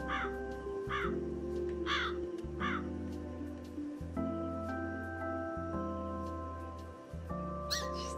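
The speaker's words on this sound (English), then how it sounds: "Man, that bird." A crow caws several times in quick succession, hoarse repeated calls rising over a steady droning background tone, with another faint call near the end.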